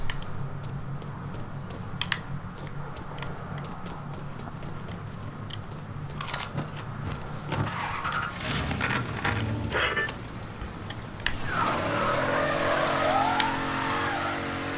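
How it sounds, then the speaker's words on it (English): A DLC car drives in Mafia 3, engine humming low and steady, with clicks and bumps, a rising surge of revving and tire noise around the middle, then a whining gear-like tone as speed picks up near the end. "This is a DLC vehicle."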